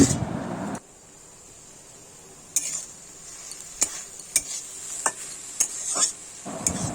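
Fish curry cooks quietly in a pan while a spoon stirs it, producing a handful of sharp, spaced taps and scrapes against the pan over a low simmer.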